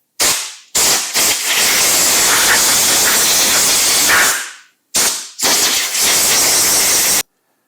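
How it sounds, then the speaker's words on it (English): Compressed air hisses in sharp bursts as it blasts dirt off an antique Troy-Bilt rototiller: a few quick puffs, a long roaring blast of about three seconds, then more short puffs and a second sustained blast, loud and close. "I got some compressed air. I'm just gonna get a lot of this crap off of here"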